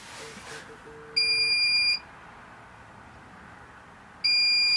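A van conversion's electronic unit, turned all the way up, gives two long, shrill, steady beeps a few seconds apart, with a brief low buzz and quiet room noise before them.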